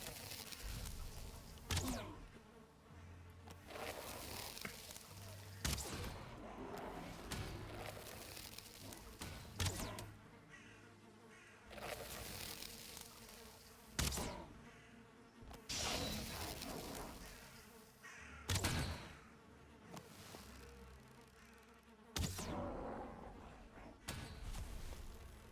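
Bees buzz in the video game The Last Longhouse, a droning hum that rises and falls around repeated sharp bursts and thumps, with some faint talk in the background.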